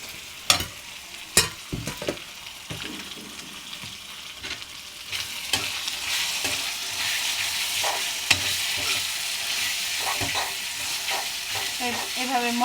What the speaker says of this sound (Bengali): একটু ভাজবেন, ভাজার পরে আদা বাটা দিয়ে দিবেন।